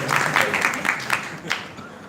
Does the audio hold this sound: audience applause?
yes